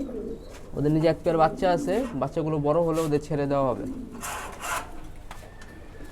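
A fostering pair of flying pigeons in a loft, their young beneath them, coo softly in the background while someone talks over them at close range, with a brief rustle near the end.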